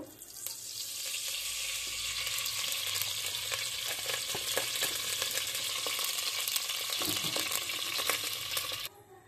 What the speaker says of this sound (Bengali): এখানে আমি কড়াই বসিয়ে দিয়েছি, আগে পোলাওটা রান্না করব। তেল দিয়ে দিই পরিমাণ মতো।